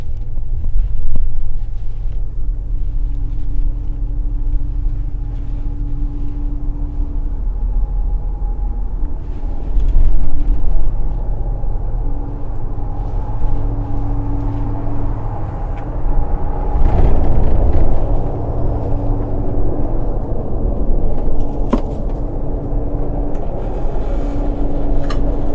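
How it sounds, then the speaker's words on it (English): Overnight bus in Japan rumbling steadily along the road, a low continuous drone with a faint tonal hum, occasional thumps and a louder jolt partway through as the coach jerks, heard from inside with no voices. "This bus is kind of jerking up and down and sideways at irregular intervals"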